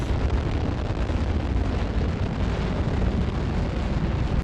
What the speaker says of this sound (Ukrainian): У соцмережах публікують відео вибуху